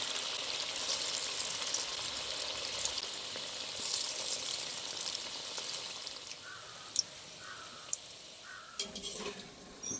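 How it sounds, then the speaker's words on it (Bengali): Palm fruit pithas frying in hot oil for Janmashtami give a faint, steady, hissing sizzle, with a few soft clinks and bubbling bursts toward the end. "তেলটা গরম হয়ে গেছে, এবার বানিয়ে রাখা পিঠেগুলো এবার দিয়ে দেবো অল্প অল্প করে।"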